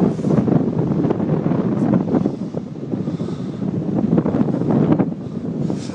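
Strong wind buffets the microphone beside an empty summer bay on the English coast, a loud, continuous roar with gusty surges and faint surf underneath.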